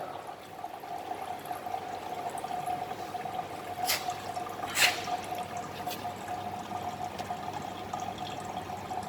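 Water runs in a steady, continuous stream into a flask, with a couple of brief splashy drips standing out partway through. No voices.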